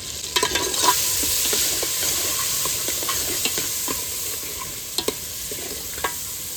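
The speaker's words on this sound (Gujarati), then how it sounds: "ટમેટા ઉકળવા માંડ્યા છે" A pan of chopped tomatoes simmers and sizzles with a steady, close hiss, while light scraping clicks and taps from stirring break through now and then. No one speaks.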